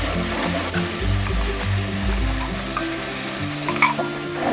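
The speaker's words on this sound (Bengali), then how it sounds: "মশলাটা এবার খুব ভালো করে আমি কষিয়ে নেব" Ground spice paste fries in a hot pan for a whole-cauliflower vegetarian dish, giving a loud, continuous sizzle with stirring and occasional scraping, no voices.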